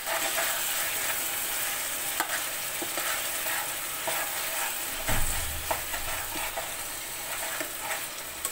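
Chicken and potatoes sauté in a pan with ginger, garlic and cumin paste and coriander powder. A steady sizzle runs under repeated stirring scrapes, with one dull thump midway.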